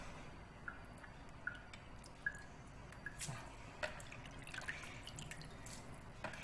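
Water trickles and drips softly from a strainer as boiled wheat noodles drain, with scattered small drops and splashes, quiet and close.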